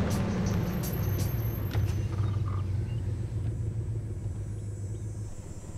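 A car engine rumbling low and steady nearby, a continuous deep idle-like drone with a few faint high clicks early on, fading slightly toward the end.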